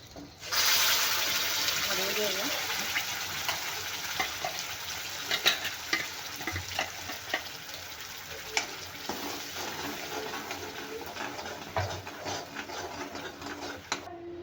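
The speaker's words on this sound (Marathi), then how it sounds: "ही ग्रेव्ही आपल्याला छान तेल सुटेपर्यंत म्हणजे जे तूप आपण घातलं होतं ते छान सुटेपर्यंत शिजवून घ्यायचे आहे" Gravy of ground masala cooking in ghee for a rajma curry, a steady close sizzle and bubbling with repeated stirring scrapes and clicks throughout, no voices.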